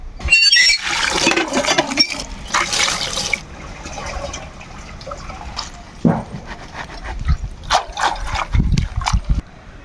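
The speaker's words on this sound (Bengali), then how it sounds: "এগুলো এখন ধুয়ে নিয়ে পরিষ্কার করে নিব" Cut taro stalks being washed in water: a loud, rushing splash of water for the first few seconds, then quieter sloshing and scattered clatters, close by.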